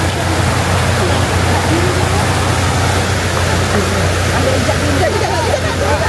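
The Sungai Congkak river rushes past a family camping spot as a loud, continuous broadband wash close by, with faint voices under it.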